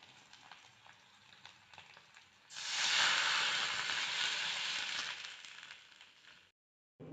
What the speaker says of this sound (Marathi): तेल गरम करून घेतलेलं आहे, त्यामध्ये टाकायची आहे मोहरी, लसण पाकळी